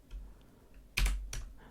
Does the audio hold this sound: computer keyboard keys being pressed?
yes